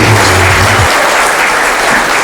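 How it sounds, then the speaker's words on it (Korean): A large audience in an indoor gymnasium at a Confucian culture academic conference claps loudly to welcome a speaker, a thick continuous roar of applause with a low rumble at the very start that drops away. "우리 김병일 장관님 큰 박수로 맞이해 주십시오"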